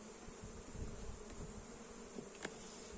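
A steady, close drone of many honey bees buzzing in an open hive hums continuously, with a few sharper buzzes passing near.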